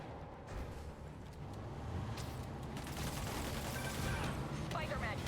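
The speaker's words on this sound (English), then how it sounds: "Why is everyone shooting rockets all of a sudden?" Soldiers open fire with guns and rockets in Spider-Man Remastered on PC, a dense continuous roar of gunfire and explosions with crackling bursts, loud and sustained throughout, voices faintly mixed in.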